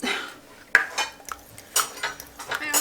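Egg and melted butter are stirred together in a bowl for quick microwave bread, with a utensil clinking and scraping against the bowl in irregular, close bursts.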